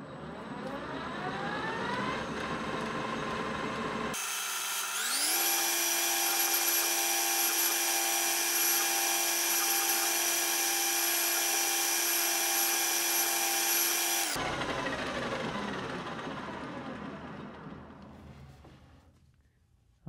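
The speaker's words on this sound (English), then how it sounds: "Now I'm going to go ahead and try to turn this diameter down to 1 inch exactly, plus or minus 2 thousandths" A metal lathe turns a part's diameter down to one inch for a Miata bumper fabrication job. The motor spins up to a loud, steady whine with a sharp tonal hum, holds for about ten seconds, then winds down and fades out.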